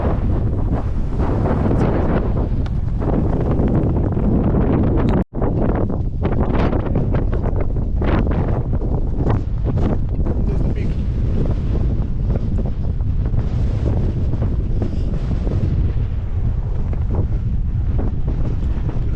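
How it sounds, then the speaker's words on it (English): Strong gusty wind roars and buffets the microphone continuously on the summit of Mission Peak, California, a loud, rumbling outdoor blast with a brief dropout partway through. "It's quite windy."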